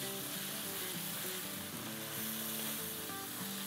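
Biryani masala with chopped tomato and yogurt being stirred in a pot, a dense continuous sizzle with the soft scrape of a spoon moving through it, steady and close throughout.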